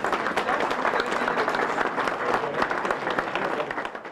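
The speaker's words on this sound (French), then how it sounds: "si vous pouvez applaudir, c'est fait, ça y est, c'est fait, allez, bravo" Steady, dense applause from an audience at the inauguration of the Musée de la Corse, a new regional museum in Corsica, sustained at an even level throughout.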